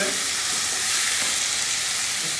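Potatoes fry in a hot pan with a steady, bright hissing sizzle that stays even and close throughout, with no voices.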